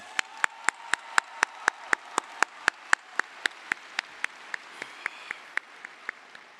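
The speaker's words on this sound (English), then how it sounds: "give yourself a round of applause" Steady, evenly spaced claps ring out one after another, sharp and regular, as a small group applauds without voices at a high school graduation.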